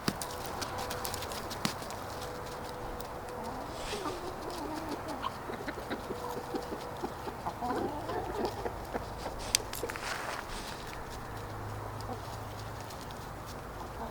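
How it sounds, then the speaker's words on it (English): Hens clucking and murmuring softly nearby, with scattered bird chirps and light rustling over a low outdoor background. "I don't mind feeding these to the chickens"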